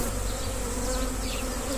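Honeybees buzzing at a healthy hive, a dense, steady drone that stays loud and close the whole time, with no voices over it.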